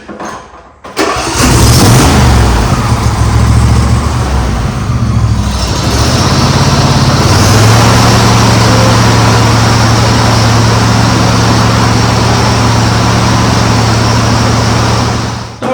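A John Deere S120 lawn tractor engine cranks briefly, catches and fires up, then settles into a loud, steady idle that runs close and unbroken for the rest of the stretch.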